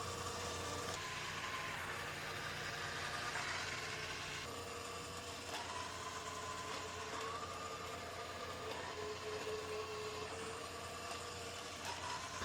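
An Arduino-controlled robot on omni wheels drives around in a square, giving a faint, steady motor whir with a constant mechanical hum and slight whining tones throughout.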